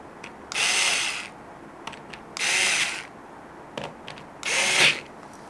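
Screws are driven into the burrs of a DF64 Gen2 coffee grinder in three separate whirring bursts, with small clicks and taps in the pauses between, close and clear.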